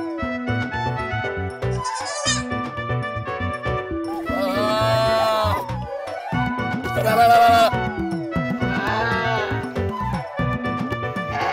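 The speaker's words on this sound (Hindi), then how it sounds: "ये वाला बकरा देखो" Several male goat bleats sound out in turn, wavering and nasal, close by, over a steady background of other noise.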